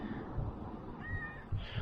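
A cat gives a short, close meow, a brief rising cry heard over a low background hum with no talking.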